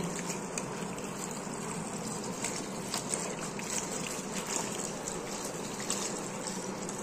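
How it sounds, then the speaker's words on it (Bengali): Malabar spinach leaves are rinsed in water in a home kitchen, producing a steady, close gushing and splashing that runs unbroken throughout. "এই যে দেখো বন্ধুরা, আমি এটাকে সুন্দর করে ধুয়ে নেব"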